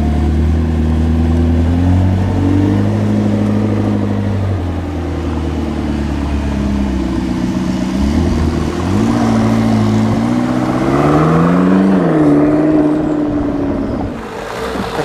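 A McLaren 650S Spider driving on a hot day, its engine droning loudly and steadily from inside the car, with the pitch rising and falling through gear changes and revs.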